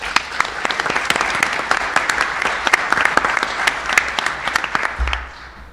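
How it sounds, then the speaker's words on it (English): Sustained applause from a summit audience for a panel of speakers, dense steady clapping for about five seconds before fading out abruptly. "So I think another round of applause."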